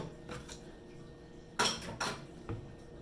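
Metal kitchenware set down in a kitchen sink after cooking apple cheddar bacon egg muffins: a few sharp clanks and clatters of a pan and utensils, close and fairly loud, spaced over a few seconds with quiet between.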